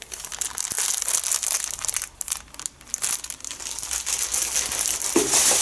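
Plastic sandwich bags for breakfast, a pack of 25 small bags, crinkle and rustle continuously up close, with loud crackling handling throughout and no talking.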